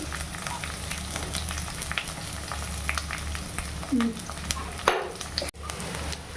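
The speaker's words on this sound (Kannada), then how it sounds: "ಹಚ್ಚಿಟ್ಟಿರೋಂಥ ಆನಿಯನ್ ಹಾಕ್ಕೊತಾ ಇದ್ದೀನಿ" Chopped onions go into hot oil in a pan while cooking chicken gravy, giving a steady close hiss and sizzle with occasional utensil clicks and stirring scrapes, no voices.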